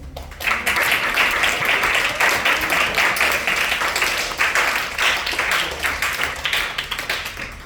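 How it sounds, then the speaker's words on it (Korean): A church congregation applauds to welcome a guest speaker, a loud, sustained wave of many hands clapping close by that holds steady for several seconds. "우리 박수로 환영하시겠습니다"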